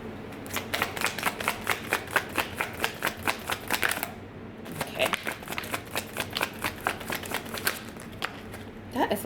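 Tarot cards are riffled and shuffled in quick regular flutters, a run of crisp rapid snaps, a short pause, then another burst, close and clear with a person speaking softly.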